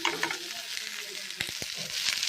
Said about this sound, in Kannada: ಶುಂಠಿ ಬೆಳ್ಳುಳ್ಳಿ ಪೇಸ್ಟ್ ಪಾಡೊಂದುಲ್ಲ ಫ್ರೈ ಮನ್ಪುಗ